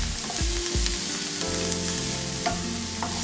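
Food for a sardines tart frying in a pan over low heat and being stirred, a continuous close sizzle broken by a few scraping strokes, with no talk.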